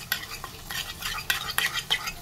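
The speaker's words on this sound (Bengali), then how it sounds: "মিক্স করে দিলেই রেডি আমার আলু পোস্ত।" A spoon stirs aloo posto, potatoes in poppy seed paste, around a pan in a few short scraping strokes, close and clear over a faint sizzle.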